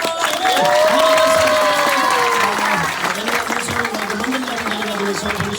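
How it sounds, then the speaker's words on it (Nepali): Audience applause at a Christmas gathering in Nepal, steady clapping and crowd noise filling the room, with a few voices and cheers mixed in throughout. "हामी ठुलो ताली बजाएर"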